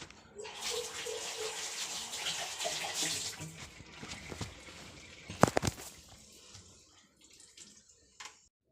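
Water pours steadily into a clogged wash basin at home to clear the blockage, a broad splashing rush over the first few seconds, then scattered drips and gurgles, a couple of sharp knocks, and a final splash as it tapers off.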